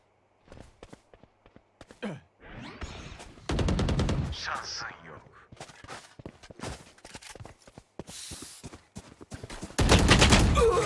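Rapid automatic gunfire from Valorant comes in two loud bursts, one in the middle and one at the end, with clicks, footsteps and a few brief voice sounds between them.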